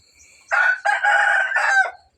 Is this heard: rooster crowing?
yes